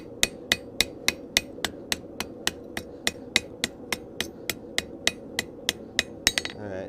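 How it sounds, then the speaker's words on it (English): A flat hammer strikes metal about twenty times in a steady, even rhythm, each blow a sharp ringing clang close by, with a quick flurry of blows at the very end. "the flat hammer."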